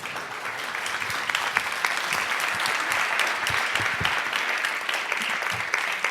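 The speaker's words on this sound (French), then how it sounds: "Je pense qu'on peut l'applaudir" Workshop audience applauding at the end of a session, a continuous, even spread of many hands clapping at moderate volume throughout, with no voices standing out.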